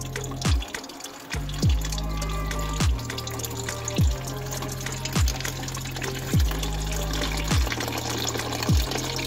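Coolant from a Honda Accord radiator drains steadily in a close, continuous watery trickle, broken by a series of regular dull drips or knocks about every second and a half.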